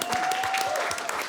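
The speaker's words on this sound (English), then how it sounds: "Fantastic round of applause for Sean." Studio audience applause on a panel discussion show, a short burst of dense clapping that stays steady and fairly close for about a second, with a faint voice beneath it.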